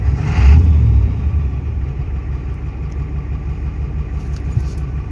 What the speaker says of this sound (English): You hear that whistle when I rev it neutral.